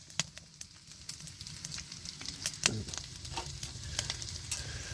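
A wood fire burns in a small stove inside a hot tent on a cold morning, giving sharp scattered crackles and pops over a low soft rumble, fairly quiet and close.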